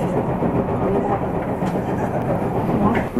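Steady rumbling and clatter of a train riding the San'in Main Line in a downpour, heard from inside the carriage as a continuous, fairly loud drone, with faint voices mixed in.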